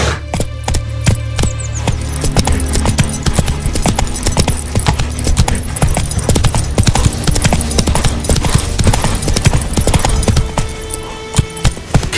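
Horse hooves clip-clopping at a gallop in the video game The Witcher 3: Wild Hunt, a loud, continuous rapid rhythm of hoofbeats with occasional tack jingling.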